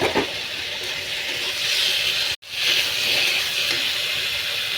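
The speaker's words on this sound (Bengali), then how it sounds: "এবার জল দিয়ে দেবো।" Water pours steadily into a pan of cauliflower and potato fish curry, a continuous loud gushing splash with a brief break midway before it resumes.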